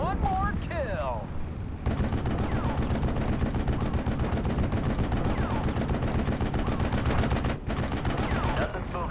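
Dense wartime gunfire from the Normandy 1944 strategy game Steel Division: Normandy 44 rattles nonstop, with machine-gun bursts and rifle shots layered over heavy rumbling explosions, loud and close. A voice speaks briefly at the start.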